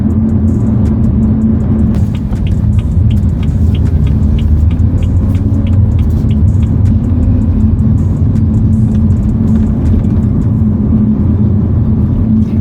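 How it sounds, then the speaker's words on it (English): A BMW 335i F30 with a ZF 8HP eight-speed automatic cruises gently in comfort mode, its steady engine and road rumble filling the cabin at a constant level, with faint ticking in the background. "I'm still kind of just taking it easy driving around here."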